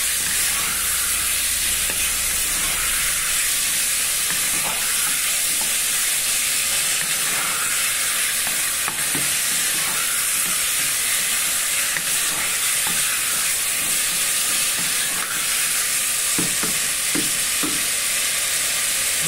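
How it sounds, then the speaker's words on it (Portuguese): Soaked and rinsed carne de sol (sun-dried beef) sautés in a pan with a loud, unbroken hiss of frying, while faint utensil clicks and scrapes come through at irregular intervals. "Deixa refogar aqui, ó."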